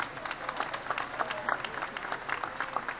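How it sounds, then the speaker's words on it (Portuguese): A church congregation at an Assembly of God service applauds together, a dense, continuous patter of many hands clapping at moderate distance, steady for the whole moment with faint crowd murmur. "Será que você pode aplaudir ao Senhor?"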